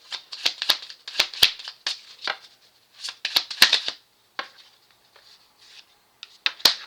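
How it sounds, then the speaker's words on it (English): Playing cards are handled and flipped on a surface, giving a string of quick crisp snaps and slides in irregular bursts, close and fairly quiet, with brief pauses between. "I gotta flip these cards over."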